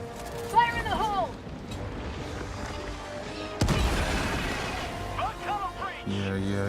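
A grenade blows up in a video game: a single sharp, loud blast hits midway and rings out briefly amid ongoing game noise and speech.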